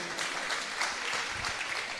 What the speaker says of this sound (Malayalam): ഒന്നുകൂടി നന്നായിട്ട് ക്ലാപ്പ് ചെയ്യും